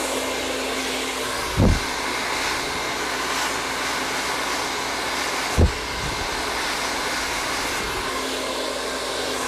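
A hair dryer blow-dries curly hair, a loud, steady, close-up whooshing roar that runs throughout, broken by two brief dull thumps.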